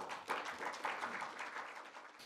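Steady applause from an audience at a Korea-Japan economic forum, welcoming a speaker, many hands clapping together at a moderate distance, continuing without pause.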